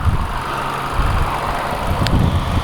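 Variable compression turbo engine of a 2019 Infiniti QX50 idling with the hood open, a steady close, even hum with no talking.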